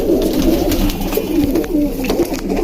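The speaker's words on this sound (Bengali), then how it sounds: "একটা সবজি কবুতর।" A pigeon in a home pigeon loft coos loudly and close by, a repeated low, throaty rolling call that runs without pause.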